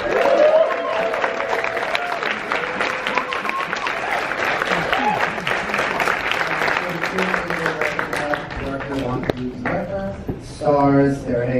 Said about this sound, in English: Let's give everybody another round of applause.